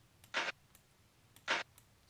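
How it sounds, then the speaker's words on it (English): Two short, bright percussive hits spaced about a second apart, a snare layered with a clap sample in a beat, each crisp and dry, alone without talk. "Then I layer that with a clap"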